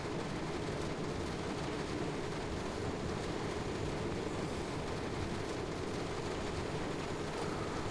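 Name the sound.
train running in Train Sim World 2 video game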